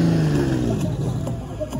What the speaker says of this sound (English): a classic Lamborghini making noise to you.